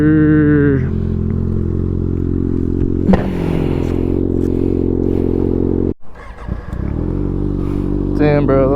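A Kawasaki ZX6R with an M4 GP19 exhaust pulls hard and loud, the engine note climbing through the revs, then a sudden cut and a raspy rev back up, with wind noise over it.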